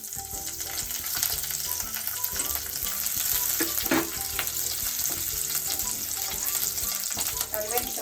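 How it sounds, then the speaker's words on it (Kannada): Chopped green chilies fry in hot oil for puffed rice upma, a continuous close sizzle with stirring scrapes, steady throughout. "ಈಗ ಹೆಚ್ಚಿಟ್ಕೊಂಡಿರೋ ಹಸಿರು ಮೆಣಸಿನ್ಕಾಯಿ ಹಾಕ್ತಾಯಿದ್ದೀನಿ"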